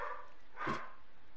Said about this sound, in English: My dog is barking at something.